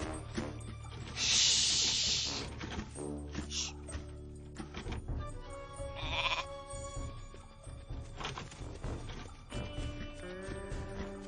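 A sheep bleats loudly in an animated cartoon, several distinct bleats over a busy background of hisses, mechanical effects and music.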